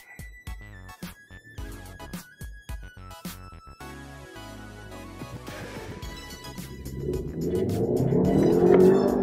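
An MG HS Magnify iSmart with a 1.5 turbo and dual-clutch transmission accelerates from 0 to 100 km/h in Super Sport mode; engine and road roar builds steadily louder over the final seconds, following a stretch of background music.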